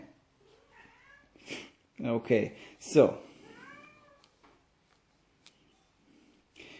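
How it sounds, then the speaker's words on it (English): Pet cat meowing outside a closed door, a few soft drawn-out meows at a distance, mixed with a man's speech and the light clatter of board game pieces being handled. "That's my cat, you can hear her."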